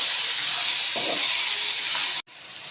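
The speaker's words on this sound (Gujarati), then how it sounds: "બધું આપણે 2 મિનિટ માટે સાતળી લઈશું" Lentils, peanuts and spices sauté in a hot pan for chutney with a loud, steady sizzling hiss that cuts off abruptly for a moment near the end before returning.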